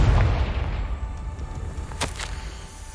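A blasting-spell explosion in Hogwarts Legacy opens with a deep rumbling boom that fades, followed by a sharp crackling burst about two seconds later.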